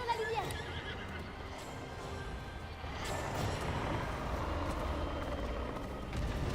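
A horse in the video game Breath of the Wild gives a sharp whinny at the start, followed by a continuous rumble of galloping hooves and movement that swells louder in the second half.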